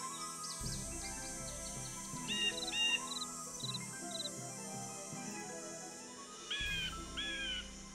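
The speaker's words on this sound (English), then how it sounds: "I'm hearing birds." Birds chirp in short, separate bursts of tweets over a steady forest ambience in the Nancy Drew: Ghost Dogs of Moon Lake video game.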